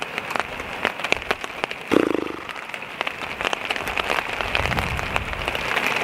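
Steady rain patters and drips on a surface nearby at a woodland bushcraft camp, with sharp individual drops ticking through a constant hiss and a brief low thump.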